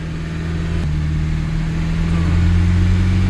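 A used Nissan Big M pickup with the red-top engine idles steadily on a test drive, its even, close mechanical hum rising slightly in pitch as the revs climb.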